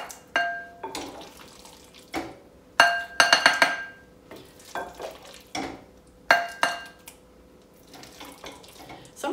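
Christmas pudding mixture of soaked fruit being put into a bowl, with sharp clinks of glass and china dishes and spoons knocked in uneven bursts, quiet wet stirring and scraping between, close and fairly loud.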